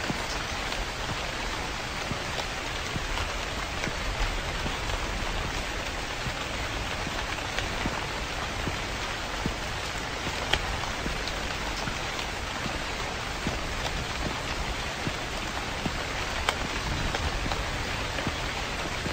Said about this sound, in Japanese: 怖い、雨の音。